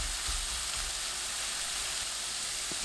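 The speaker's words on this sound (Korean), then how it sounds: "1분 볶아주세요." Minced garlic stir-frying in about three tablespoons of cooking oil in a pan over medium heat, a steady close sizzle and hiss with occasional soft stirring thumps, no voices.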